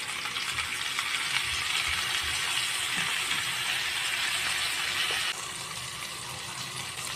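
Soy sauce hits a pan where a dish with cornstarch and pepper is being sautéed, giving a bright, continuous sizzle and hiss that drops slightly in level near the end, with no talking.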